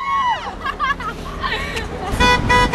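Several car horns honk repeatedly along a roadside in Ontario, Canada, some long and some short, with an excited crowd cheering and shouting over them.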